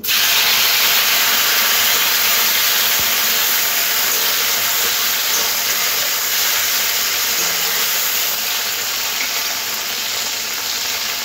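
Two medium-sized peeled, chopped tomatoes sizzle steadily and loudly in a hot pan, a continuous bright frying hiss with steam, no voices.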